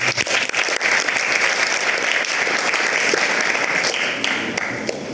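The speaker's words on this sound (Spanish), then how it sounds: "Un aplauso para la compañía." Audience applause at a community conference on goat farming, a dense, steady wash of many hands clapping throughout that eases off slightly toward the end.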